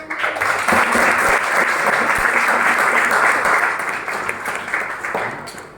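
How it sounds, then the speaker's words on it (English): An audience applauds at a children's day celebration at a coaching institute in Bhubaneswar, a loud dense roar of many hands sustained for several seconds before tapering slightly at the end. "round of applause"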